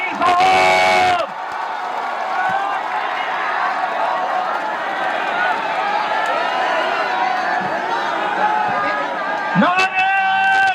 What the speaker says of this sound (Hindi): उसने जोरदार तालियों से मेरे कायद बैरिस्टर असदुद्दीन अवैसी साहब,